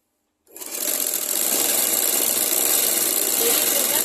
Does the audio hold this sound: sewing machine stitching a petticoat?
yes